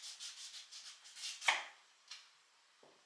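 Washed celery is cut on a board with a quick run of soft, rhythmic knife strokes, then a few sharper, spaced chops trailing off into quiet.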